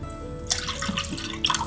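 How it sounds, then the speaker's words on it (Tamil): Water poured into a cooking pot while preparing a horse gram and barley porridge, a short splashing stream that starts abruptly and continues briefly with bright gurgling, close and alone. "ஒரு பாத்திரத்தில் கொஞ்சம் தாராளமாக தண்ணி விட்டு கொதிக்க வச்சுக்கலாம்."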